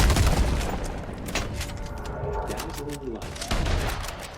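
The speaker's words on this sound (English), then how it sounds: "come over here and get with my incendiary buckshots" Shotgun blasts firing incendiary buckshot in a video game boom out in a rough volley, a heavy shot at the start followed by several more spaced bursts amid game noise.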